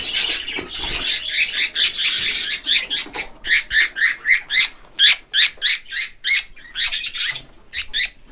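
A budgerigar, a fairly wild and restless one, chirps in a busy run of sharp, quick tweets and chatter, close and fairly loud, with short gaps between the bursts.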